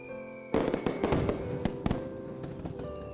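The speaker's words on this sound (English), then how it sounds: "look up at the New Year's Eve night sky, and then fireworks burst forth" Vietnamese New Year's Eve fireworks for Tet burst in the night sky: a sudden opening blast, then a quick run of loud, sharp explosions and crackles, with sparser pops trailing off.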